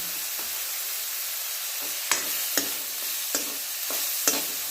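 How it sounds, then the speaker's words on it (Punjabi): Peas with cumin powder sizzle in a pan as they are stir-fried, a steady frying hiss broken by several sharp scraping and clinking strokes of a spatula, close and alone. "ਹੁਣ ਆਪਾਂ ਇਹਨੂੰ ਚੰਗੀ ਤਰ੍ਹਾਂ ਭੁੰਨ ਲਵਾਂਗੇ ਮਟਰਾਂ ਨੂੰ"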